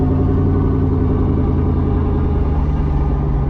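A twin-turbo Ford Mustang engine in first gear gives a loud, steady drone with a deep low rumble, held at a constant pitch throughout, close and continuous with no voices.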